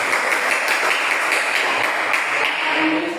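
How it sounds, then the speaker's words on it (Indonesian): Classroom applause for a student group during an Islamic religious education teaching practice lesson, dense steady clapping from many hands, close and sustained. "sudah tepuk tangan untuk kelompok 3"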